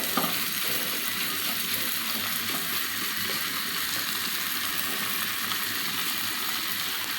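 Dried fish for a chapa shutki biryani fries in a pan with a constant close sizzle and crackle, steady throughout with a faint clink at the start.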